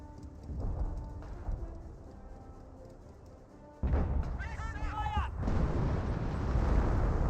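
Artillery fire in the World War II strategy game Company of Heroes, heard as a dense rumble of distant booms and explosions building into a sustained roar, with a voice speaking over it and some whistling shell sounds.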